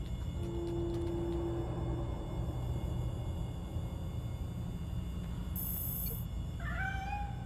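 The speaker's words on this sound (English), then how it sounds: "Aw, that sounds like a stray cat." A stray cat in the video game Gotham Knights gives a faint drawn-out meow early, then a couple of short mewing cries near the end over a steady low ambient rumble.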